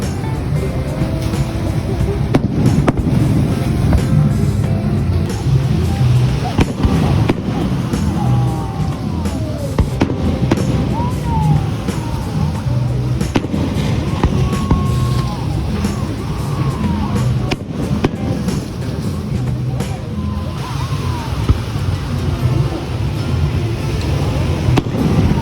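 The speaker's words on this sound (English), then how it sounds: "We let these fireworks off every night" Nighttime fireworks over the Malecon in Puerto Vallarta, Mexico crackle and pop continuously with rumbling low booms and occasional whistles, loud and dense throughout, outdoors with faint voices.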